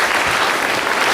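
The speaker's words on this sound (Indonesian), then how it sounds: "Kita berikan tepuk tangan sekali lagi untuk Fadil dan juga Dewi." Audience applause at a live motivational talk show in a studio hall: dense, loud, continuous clapping from a large crowd, filling the whole short moment without any break.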